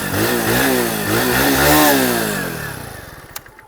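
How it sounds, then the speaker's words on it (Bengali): A Hero Splendor+ Flex Fuel E85 motorcycle idles and revs through its stainless steel exhaust, a close, steady low-pitched engine drone that swells slightly mid-clip, then winds down and fades into quiet near the end. "আমি সাউন্ডটা একবার আপনাদেরকে শুনিয়ে দিচ্ছি এক্সস্টের।"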